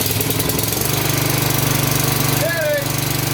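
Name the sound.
Honda HRX 217 lawn mower engine starting on full choke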